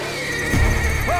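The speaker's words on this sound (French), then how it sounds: "Le serpent, il a effrayé le cheval." A horse in an episode of The Walking Dead, frightened by a snake, gives a loud, close whinny, with hoof clatter and rumble in the background.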